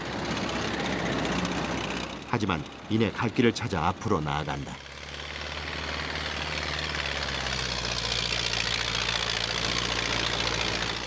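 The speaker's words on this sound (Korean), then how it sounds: "산길을 오르기 쉽게 만들어진 트랙터도 몇 번씩 공회전을 반복한다" Tractor engine on a frozen, snow-covered mountain road, spinning its wheels and idling in the cold, a steady low drone that continues alone after a narrator speaks over the first half.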